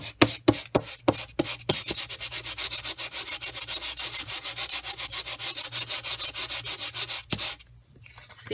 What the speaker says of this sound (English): you can actually go over it with a little bit of sandpaper, dress it up some